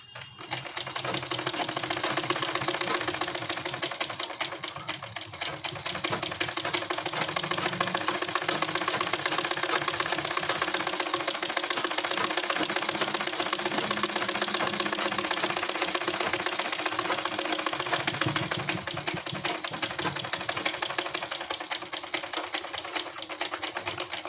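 A sewing machine stitches fabric for an angrakha garment, its rapid even needle chatter running loud and continuous throughout with slight shifts in speed.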